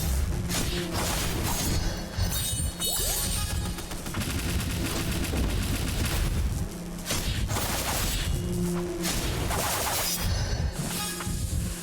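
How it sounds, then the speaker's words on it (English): Grenade blasts and crashing impacts in the video game Ender Magnolia: Bloom in the Mist, dense and loud throughout, with repeated bursts over steady game music and effects. "What are these dang grenades?"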